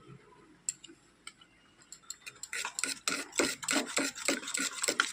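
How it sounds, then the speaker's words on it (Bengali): A spoon stirs a spoonful of cornflour into liquid in a bowl, starting with a few light taps and clinks, then settling into quick, steady scraping and swirling strokes close by, with no voices. "1 চামচ কর্নফ্লাওয়ার গুলে নিচ্ছি।"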